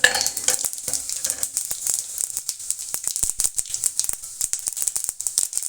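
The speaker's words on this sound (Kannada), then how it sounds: "ಸಾಸಿವೆ ಜೀರಿಗೆ ನಮಗೆ ಚೆನ್ನಾಗಿ ಸಿಡಿಬೇಕು" Mustard and cumin seeds splutter in hot oil in a pan while avalakki is being made, with sharp, irregular pops and crackles over a faint sizzle, loud and close.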